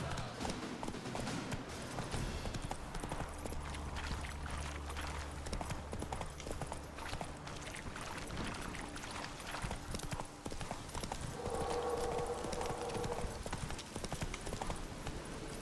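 Roach the horse galloping in The Witcher 3, a continuous rapid clip-clop of hooves under game music and sound effects, with a brief voice partway through.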